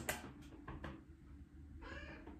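A house cat meows softly a couple of times indoors, faint and close against a quiet room background.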